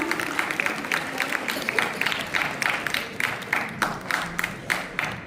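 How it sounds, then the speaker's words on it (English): An audience at a school interhouse competition claps to welcome guests onto the stage, a sustained burst of brisk, rhythmic clapping from many hands in a hall, with faint voices underneath. "Clapping everyone."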